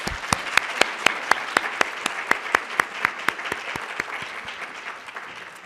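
A townhall audience greets Dr. Helene Gayle with applause, a steady wash of clapping with distinct sharp individual claps ringing out rhythmically near the front, fading slightly toward the end.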